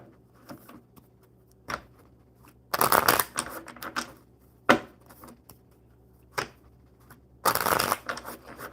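A deck of playing cards being shuffled in several bursts, with two long riffling runs and short taps and slaps between them, close and clear, no talking.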